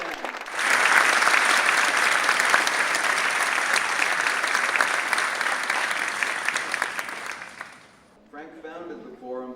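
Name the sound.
audience applause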